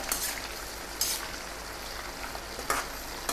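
Herbs are stirred through hot oil in a pan while making homemade hair oil: a soft continuous sizzle with a few scraping, clinking stir strokes, quiet and close, with no talking.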